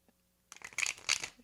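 Tarot cards are shuffled in a short, close burst of papery riffling and flicking that starts after a brief quiet moment.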